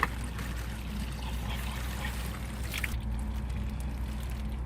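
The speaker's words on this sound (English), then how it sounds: "Oh, we've got a leak, and that's because somebody has gone and flushed the toilet." Water trickling steadily from a leaking boiler fitting after a toilet is flushed upstairs, a continuous close dribble that carries on over low background hum.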